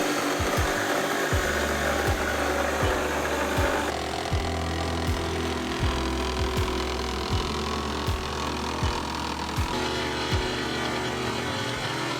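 A Sawzall reciprocating saw cuts through wood in a house under renovation, a loud steady buzzing drone with regular rhythmic strokes throughout.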